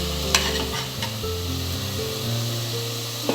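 Tomatoes land in a frying pan over ginger, garlic and mint for mutton biryani, giving a steady close sizzle with a few sharp clicks of a spoon stirring through it.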